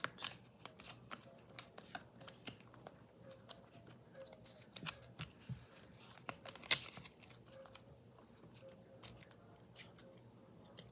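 A deck of playing cards is shuffled with quiet, irregular riffling and snapping card sounds, close by and faint, including one sharper snap partway through.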